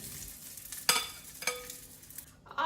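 Onions and jalapeno pepper hit a hot skillet and sizzle softly, with a few sharp scraping stirs and a rising fry toward the end, close and fairly quiet.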